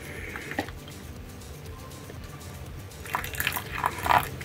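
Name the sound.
pouring a little water into a jar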